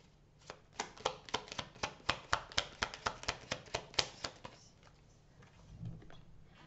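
Tarot cards shuffled and drawn, a steady train of about fifteen evenly spaced crisp card snaps, close and moderately loud, then a soft rustle and a faint low thump as they settle, with no talk.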